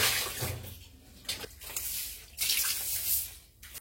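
Water splashing and sloshing as a balcony floor is washed down during a morning cleaning routine, with uneven bursts of spray and dribbling close by, no voices.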